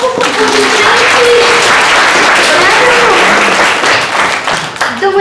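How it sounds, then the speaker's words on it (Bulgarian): An audience at a school graduation ceremony for a fourth-grade class applauds loudly, a dense sustained burst of clapping while people talk over it, fading slightly at the end. "Ми правилно, Божанко, аплодисменти!"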